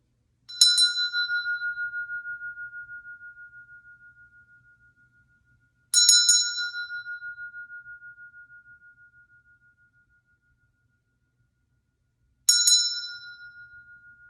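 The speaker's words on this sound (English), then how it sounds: "I'm going to go ahead and ring that green chakra bell for you." A green chakra bell is struck three times, evenly spaced, each bright ring sustaining a clear tone that slowly fades before the next strike, alone in a quiet room.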